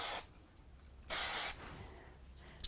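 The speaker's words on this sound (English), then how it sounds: "each one of these will get a little bit of spray glue" Spray glue hisses from an aerosol can onto paper die cuts in two short bursts, a brief one at the start and a longer, louder one about a second later, with a faint puff near the end.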